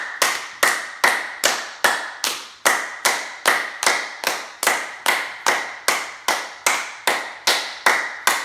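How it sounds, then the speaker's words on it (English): Steady hand clapping during a yoga class exercise, about two claps per second, sharp and close, repeating evenly with no talk. "So we will do clapping for like a minute."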